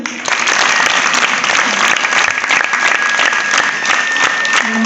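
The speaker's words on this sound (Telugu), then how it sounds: "కాబట్టి అందరూ కూడా చప్పట్లు పెట్టండి." Loud, sustained applause from a crowd of schoolgirls at a Kasturba Gandhi girls' school in Gangavaram, marking a donation of CCTV cameras, filling the whole stretch without a break.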